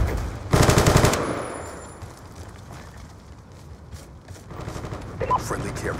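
Automatic gunfire in a Black Ops 2 Team Deathmatch match on the Standoff map: a loud, dense burst of rapid shots up front, then quieter game ambience, and more bursts of fire near the end.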